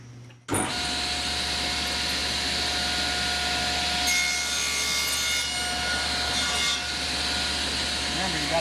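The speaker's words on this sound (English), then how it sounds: "Okay, now we're ready to cut." A table saw cuts a wooden tenon, its motor starting abruptly and then running as a loud, steady whine with shifting tone as the blade bites through the wood, continuing without pause.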